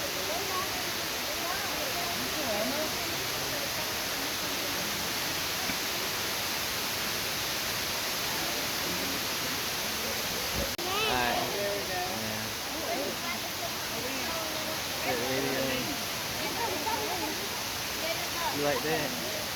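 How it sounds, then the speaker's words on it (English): Steady broadband rush of a waterfall in a game world, loud and continuous for the whole stretch, with a voice speaking over it partway through. "That's a nice waterfall."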